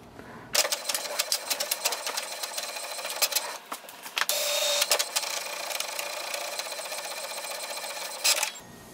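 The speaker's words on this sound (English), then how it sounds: "So this way we can do the printing with this printer, and we can do the two-sided printing." An HP Envy 6032e printer running two-sided printing whirs and clatters in busy mechanical bursts, pausing briefly midway as the page turns, then running on before stopping.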